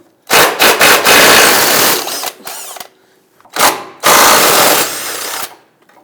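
Impact wrench with a 19mm socket rattles in loud bursts on the passenger-side C-clamp bolt securing the steering rack to the frame of a 2000-2006 Toyota Tundra, with two long runs broken by short pauses and a brief final burst.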